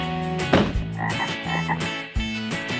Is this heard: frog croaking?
yes